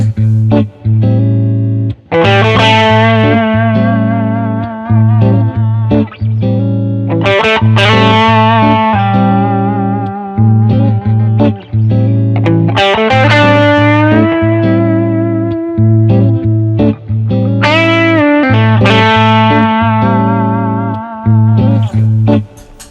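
Effects-laden electric guitar improvises with long ringing notes over a steady low drone, loud and alone, with sustained bends and swelling phrases spread across several passages.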